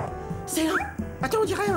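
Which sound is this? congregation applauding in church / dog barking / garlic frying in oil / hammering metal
dog barking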